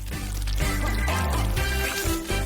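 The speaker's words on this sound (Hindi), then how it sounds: "मैं ऊपर से शहद डालूंगा।" Honey poured over the top of a homemade cake, a soft continuous trickle of liquid heard close up against dense background music, with no talking.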